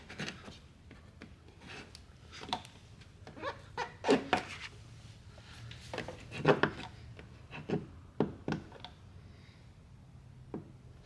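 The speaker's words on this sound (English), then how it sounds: "And then we'll squeegee all this out as well." Paint protection film being squeegeed onto a 2023 Ford Bronco fender: close, irregular rubbing and squeaky scraping strokes, some sharp and louder, with brief pauses between passes.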